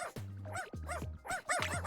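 Cartoonish dog barks from the Wobbledogs video game, four quick yappy woofs in a steady rhythm, close and clear with no talking over them.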